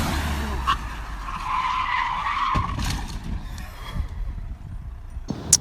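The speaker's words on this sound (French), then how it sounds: "un rond-point à 80 km/h, tu arrives dedans, tu le prends à 80 et tu freines pas" A Porsche GT3 RS carrying 80 km/h through a roundabout without braking, tires skidding and squealing over a steady engine drone, with a sharper burst near the end.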